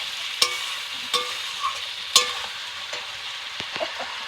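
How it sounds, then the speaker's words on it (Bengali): Spices and vegetables sauté in a pan for a vegetarian dalia dish, a soft steady sizzle under intermittent sharp scrapes and clinks of a spoon stirring against the metal, close up with no voices. "মশলা ও সবজি খুব ভালো করে কষানো হয়ে গেছে।"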